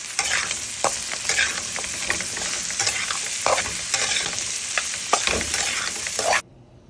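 Chopped Asian bottle gourd pieces stirred and fried in a hot pan, a dense continuous sizzle with repeated scraping knocks from the spatula, close and loud, ending abruptly.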